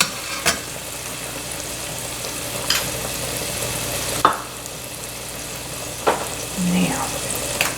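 A pan of mahi mahi dinner cooks on the stove with a steady soft sizzle, broken by a few sharp utensil clicks and taps against the pan.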